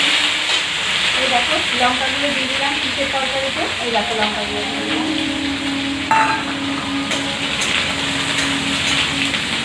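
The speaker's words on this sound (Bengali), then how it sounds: "বেগুন ভাজাটা দিয়ে দিলাম এর মধ্যে।" Fried eggplant added to a pan of oil with five-spice tempering, giving a steady close sizzle and hiss throughout, with a brief louder clatter near the middle and someone talking over it.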